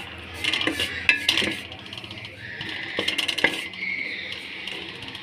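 A utensil scraping and stirring gram flour as it roasts in a pan on a low flame, with irregular metallic clinks and scrapes close by and a faint sizzle underneath.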